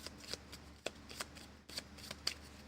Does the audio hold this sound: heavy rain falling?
no